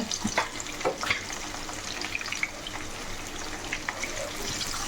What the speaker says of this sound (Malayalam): മാങ്ങ ഒന്ന് നല്ലപോലെ മൂത്ത് വരട്ടെ